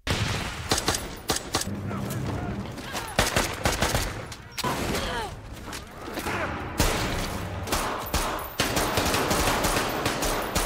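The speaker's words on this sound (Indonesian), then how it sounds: "Dia pun kena banyak tembakan di sana." Heavy gunfire erupts in a film battle on a rooftop, dense bursts of automatic fire and single shots crackling continuously at close range with loud sharp cracks throughout.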